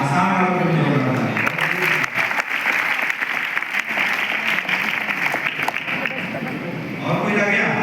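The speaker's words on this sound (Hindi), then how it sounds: "असम वालों को भी जोरदार तालियां" An audience at a training session breaks into loud, continuous applause for attendees from Assam, a thick steady roar of clapping hands that barely wavers for several seconds.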